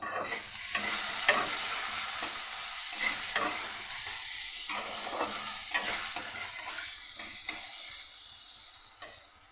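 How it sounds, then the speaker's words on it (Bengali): Washed, cut potatoes with a little turmeric and salt fry in a pan, a steady soft sizzle broken by repeated scraping stirs of a spatula, close and quiet, with no voices. "কেটে ধুয়ে রাখা আলু, সামান্য একটু হলুদ, সামান্য একটু নুন দিয়ে ভালো করে ভেজে নেব"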